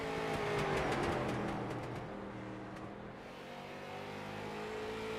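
A race car crossing the line on its lap, a close loud engine roar with rhythmic revving harmonics that passes by and fades slightly, no voices.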